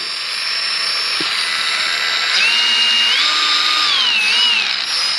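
A Snap-on right-angle variable speed polisher runs with a loud, steady high whine close by, its pitch rising and wavering as the speed is changed, with no talking.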